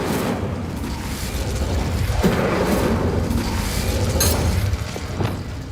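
A fiery Incendio spell erupts in Hogwarts Legacy combat, a loud, dense roar of booming, crackling blast noise sustained for several seconds with brief sharper bursts, close and full, no voices over it.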